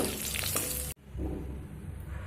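Eggs frying in hot oil in a pan give a dense, moderate hiss that cuts out abruptly for an instant, then resumes with soft spatters and light crackle.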